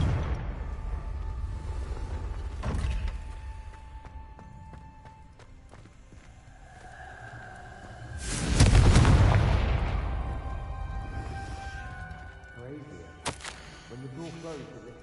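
Confringo blasting spell in the video game Hogwarts Legacy bursts into one loud explosive blast partway through, surrounded by quieter game ambience and an earlier thud.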